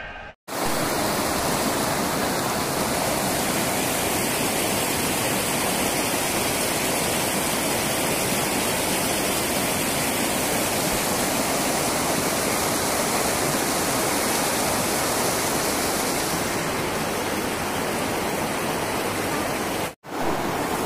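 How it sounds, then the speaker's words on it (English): Glacier-fed Shali Ganga river rushing through the Kashmir valley at Doodpathri, a loud steady roar of turbulent water that fills the whole stretch without pause. "This is the river Shali Ganga, the tributary of river Jhelum that comes from the glaciers above me"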